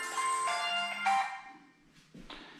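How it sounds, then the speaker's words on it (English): A mobile phone ringtone goes off indoors, a bright electronic melody of sustained tones in short bursts, fairly close and loud, ending with a brief chirp. "Sorry, phone went off."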